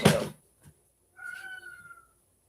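A cat gives a single drawn-out meow nearby, following a brief thump and a short pause, with no voices.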